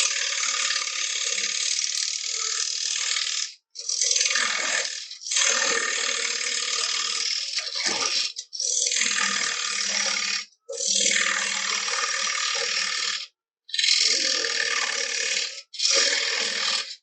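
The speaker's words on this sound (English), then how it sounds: "So I'm going to grab me my parting tool and I'm just going to create a recess." A parting tool cutting a recess into a wooden bowl spinning on a lathe gives steady, loud, close bursts of chattering scraping, about seven passes of two seconds or so each, separated by short gaps, with no talk.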